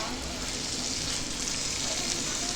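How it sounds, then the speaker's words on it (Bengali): Small chicken pieces fry in a pan with a steady, dense sizzle that holds even and close throughout, with no voices. "আজকে আমি চিকেন রান্না করছি।"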